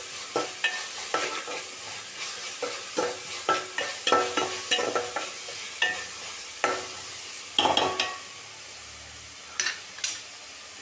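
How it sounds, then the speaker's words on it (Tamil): Onions sautéing in a pan for chicken gravy hiss with a steady low sizzle, broken by repeated scraping and clinking stirring strokes at an irregular rhythm, close and moderately loud. "வெங்காயம் வந்து பார்த்திங்கன்னா கொஞ்சம் பாதி நல்லா வதங்கிட்டு"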